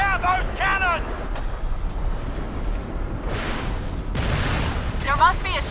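Deep booming cannon fire in the Crysis video game, heavy broadband blasts rolling through the middle of the clip amid a noisy battle background, with chirpy electronic radio tones at the start and end.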